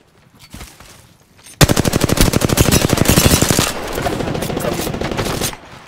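Loud automatic gunfire in Apex Legends erupts suddenly after a quiet start, a fast rattling stream of shots that continues for several seconds before trailing off.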